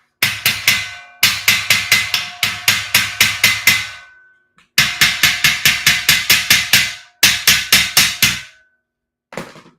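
Loud, sharp hammer strikes while assembling a garage shelving unit, in quick bursts of several blows each, separated by short pauses, ringing close by with no talking.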